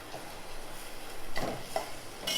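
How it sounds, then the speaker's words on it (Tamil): Spices such as coriander, chili and turmeric powder with salt being stirred and sautéed in a pan for South Indian egg curry, giving a soft continuous sizzle with a few scraping stirs and small clinks. "இதை கொஞ்சமாக வதக்கி விட்டுறலாம்."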